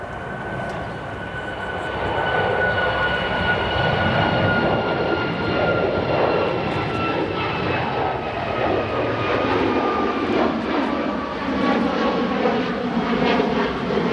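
A heavy jet airliner roars at O'Hare Airport, its broad engine rumble rising after a couple of seconds and holding steady and loud with a whining tone running through it, close and sustained with no talk.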